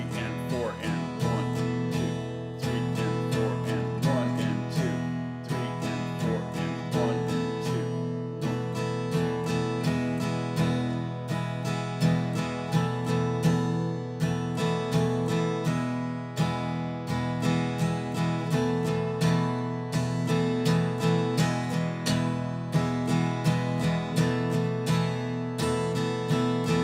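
Acoustic guitar strumming a repeating rhythm with a held quarter-note stroke on beat two of each bar, steady and fairly loud throughout, no talking.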